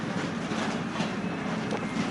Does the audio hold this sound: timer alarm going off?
no